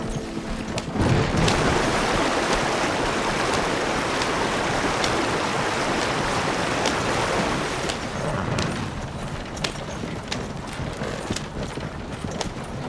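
Horse wading through a river in Red Dead Redemption 2, with dense, steady splashing and sloshing water and a faint clip-clop running throughout at close, loud level.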